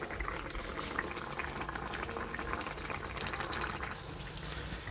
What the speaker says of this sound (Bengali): এবার খুব ভালো করে ফুটিয়ে মাছটাকে সেদ্ধ করে নেব